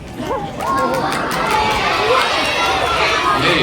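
A crowd of elementary school children cheering and chattering at a reptile show, broad and continuous, getting louder after the first half second and holding steady, with children's shouts and voices mixed through.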